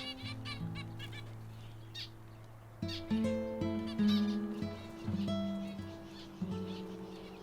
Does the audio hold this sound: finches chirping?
yes